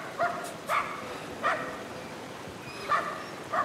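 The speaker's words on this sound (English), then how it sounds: "Dog!" A dog barks in a video game, five short sharp yips spaced irregularly over a low steady background, fairly close and clear.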